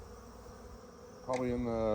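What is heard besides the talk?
bees buzzing on a warm day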